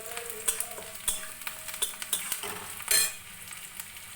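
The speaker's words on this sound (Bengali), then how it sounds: "এবারে আদা রসুন বাটাটা দিয়ে দিলাম" Ginger garlic paste frying in oil in a pan for chicken curry, with a steady sizzle broken by repeated scraping stirs of a spoon against the pan.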